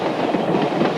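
A passenger train rolls out of a big city into farm country, a loud steady rumble with faint rhythmic clatter of wheels on rails, heard from inside without talk.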